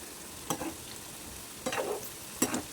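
Fasting bhaji fritters frying in hot oil as they are flipped with a spatula, three brief bursts of scraping and sizzling at intervals over a quiet background.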